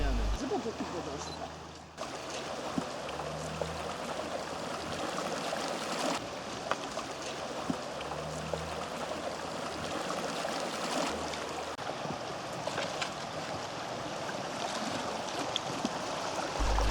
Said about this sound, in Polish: Rzeka raz płynie wartkim nurtem na zwężeniach, innym razem rozlewa się szerzej i tratwa znacznie zwalnia.